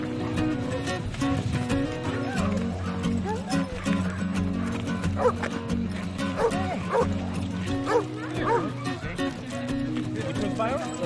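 Dogs arriving at a prison bark and yip in busy bursts while people talk over them throughout, with the barking mixing closely into the chatter.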